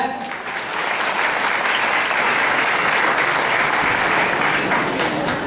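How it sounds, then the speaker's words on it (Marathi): A large audience claps loudly and continuously after a Ganesh Vandana performance at a cultural festival in Akola, a dense sustained roar of many hands filling the whole stretch. "एकदा जोरदार टाळ्या"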